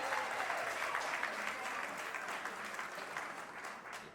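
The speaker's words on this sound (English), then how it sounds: "Please, big round of applause for the one and only Ron Lawrence, everyone." A hip hop honors audience gives a steady round of applause for Ron Lawrence, a dense wash of clapping heard at moderate distance without a break.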